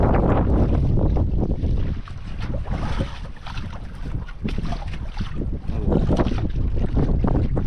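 Strong wind buffets an outdoor spot, probably by water, in a steady loud roar of gusty noise that rises and dips with no clear voices.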